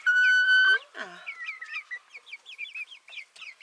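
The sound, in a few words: chicken clucking, likely a rooster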